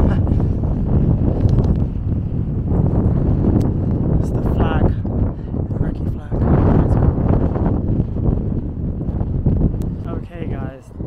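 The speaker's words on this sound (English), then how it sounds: "It's a bit windy." Wind gusts at the Martyr Monument in Baghdad, Iraq, a loud constant rumble buffeting the microphone throughout and swelling in places, with a person talking over it.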